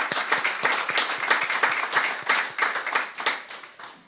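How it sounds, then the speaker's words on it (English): Hands clapping in a round of applause at a Sunday church service, a dense, steady patter of many claps close by, lasting throughout without talk. "let's give again a big round of applause to these reports."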